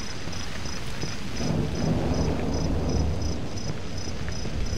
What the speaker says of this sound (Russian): Мне еще дождя не хватало